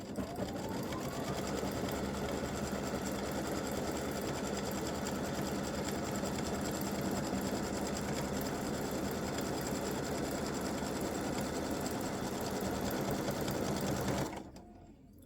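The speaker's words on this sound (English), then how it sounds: "I'm just going to hold this in place while this line stitches" An embroidery machine stitches an applique line along the side seam split of an elf legs and bow design, giving a steady, loud, fast mechanical whir for about fourteen seconds before it stops abruptly.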